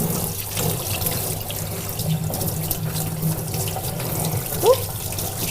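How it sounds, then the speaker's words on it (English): Tap water runs steadily into a kitchen sink while hands are washed, a close, continuous hiss and splash with a brief louder splash near the end. "I'm just going to wash my hands."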